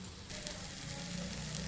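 Cumin powder hitting fish curry masala in a hot pan, a soft steady hiss of sizzling that grows slightly fuller after a moment, faint and without talk.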